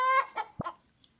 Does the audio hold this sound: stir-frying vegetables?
no